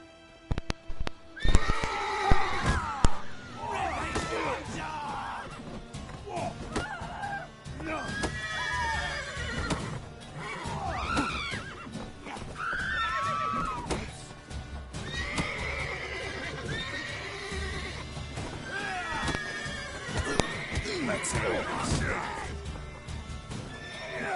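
Horses neighing and whinnying repeatedly in The Witcher, with hooves clip-clopping underneath, loud and close throughout, mixed with game sound effects and brief bits of talk.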